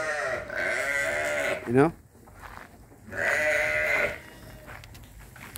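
Pregnant sheep bleat loudly on a farm, two long wavering calls separated by a brief pause, while someone talks briefly between them.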